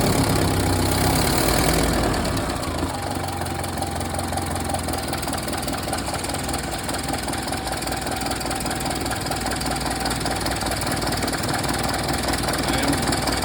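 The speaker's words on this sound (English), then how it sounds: "So the engine started up really quickly" A Ford Model A engine idles steadily after a quick start, a continuous close mechanical chug with a faint knocking rhythm and no voices over it.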